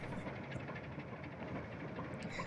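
A toy train rolls along its track in a video game, giving a faint, steady low rumble that continues without a break and with no voices.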